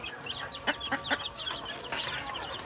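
Desi hens cluck in short, sharp bursts at close range around a backyard coop, several calls coming in quick succession over a faint background hiss.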